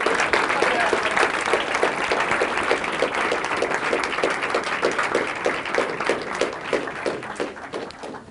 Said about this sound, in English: if you would help me give them a huge round of applause